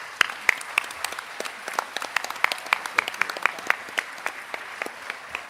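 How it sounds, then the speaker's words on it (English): An audience at an award ceremony applauds, a sustained patter of many hands clapping at close range with sharp individual claps standing out, no voices over it. "Let's give a warm round of applause to Irene Galtung."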